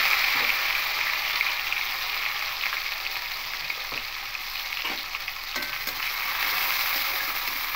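Onion sizzles in hot mustard oil for a coconut, prawn and taro stem dish, producing a continuous bright hiss with scattered faint pops and stirring scrapes throughout, without speech.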